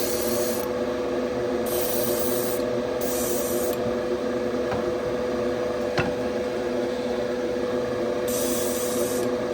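Paint is sprayed onto model car transmission parts for a 1970 Chevelle build, in several short hissing bursts separated by pauses over a constant background hum.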